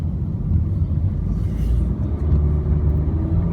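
A 2020 Honda HR-V EX with a 141-horsepower engine accelerates up a small hill, giving a steady, close low rumble that swells slightly midway, with no talking.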